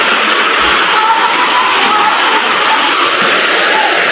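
Nabaroto Falls, a waterfall in San Andres, Quezon, crowded with visitors, gives a steady, loud broadband rush of falling water with no break throughout.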